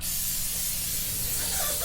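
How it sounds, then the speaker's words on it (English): Pre-tape spray from an aerosol can applied onto a foot before adhesive taping, a continuous close hissing spray lasting about two seconds without pause. "it's helpful if you can pre-tape the foot with a spray such as this"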